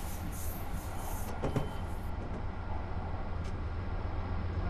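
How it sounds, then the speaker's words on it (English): A Metro-North train rumbles past in the Train Simulator 2015 game, a steady low roar of rolling wagons with a few brief higher clanks and squeals, no talk. "we got another train on the right here"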